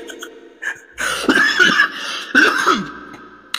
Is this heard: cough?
yes